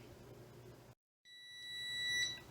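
A kitchen timer in a home kitchen sounds high, steady electronic beeps after a brief silence, rising slightly in level, with a low background hum earlier.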